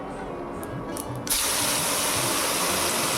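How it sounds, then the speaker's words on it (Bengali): A prepared spice paste hits the hot pan of a rohu fish curry, and a loud hissing sizzle bursts in suddenly, then holds steady and close after a quieter moment of kitchen noise. "তারপর আমরা যে মশলাটা রেডি করেছি সেটা এটার মধ্যে ঢেলে দেব।"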